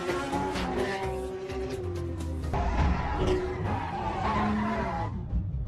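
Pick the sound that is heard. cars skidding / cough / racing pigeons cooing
cars skidding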